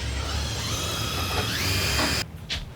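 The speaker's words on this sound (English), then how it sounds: "All right, so pre-drilled that hole." Drill boring a pilot hole for a fastener, a steady high whine for about two seconds that stops abruptly, followed by a brief rattle.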